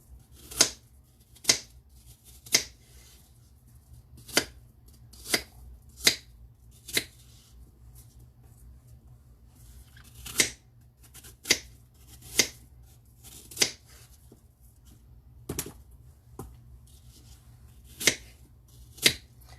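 A knife chopping apple chunks for a cinnamon apple cake on a cutting board: a series of crisp, close, evenly spaced cuts, about a dozen sharp taps in an irregular rhythm, with no talking.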